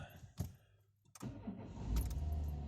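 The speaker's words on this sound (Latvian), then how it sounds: "mašīnu iedarbināt laikam varēja" A Peugeot 207 car is started: keys jangle and clunk nearby, then the engine cranks and catches into a steady low idle that grows louder toward the end.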